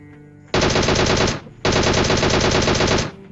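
Automatic gunfire in a shooting video game, two long rapid bursts close and loud, separated by a short pause, with no talking.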